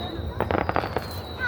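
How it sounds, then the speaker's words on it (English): Fourth of July fireworks burst overhead in a quick cluster of loud crackling booms lasting about half a second, then fade into background noise. "Every time you hear another boom, that's the other one going up in the air."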